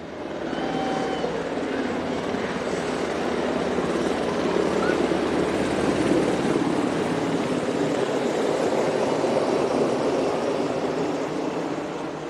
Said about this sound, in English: Let's hear the roar of the chopper for a little bit, shall we?